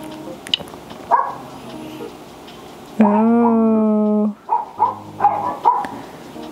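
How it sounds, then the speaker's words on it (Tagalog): A dog barks a few times nearby at night, then lets out one long, drawn-out howling yelp before more short barks follow. "Makikinig niyo yung aso. Gabi na, tumatahol pa."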